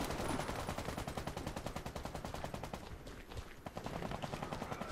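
Continuous rapid automatic gunfire in Warface, dense evenly spaced shots firing nearly nonstop with a brief lull, mixed with other battle noise and no voices.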